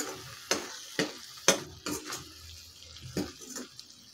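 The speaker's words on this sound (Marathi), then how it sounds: "तर एक 3 ते 4 मिनिट परतून घ्यायची आहे टोमॅटोची पेस्ट" Tomato paste and spices for rajma curry are stirred in a hot pan, with soft sizzling and several scraping spoon strokes at irregular intervals, close and moderately loud.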